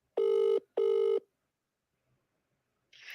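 An outgoing phone call rings on loudspeaker, two long electronic ring tones with a short gap between them, followed by silence.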